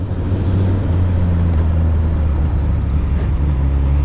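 An old four-cylinder motorcycle with its exhaust removed idles with a loud, continuous low rumble, close and steady with no talking.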